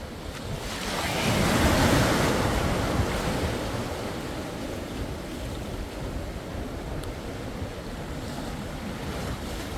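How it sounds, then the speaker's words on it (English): Ocean waves break on Cortez Beach in a loud, close surge that swells over the first couple of seconds and then settles into a steady washing roar, with wind buffeting the microphone. "Looks like this is where the waves break right here."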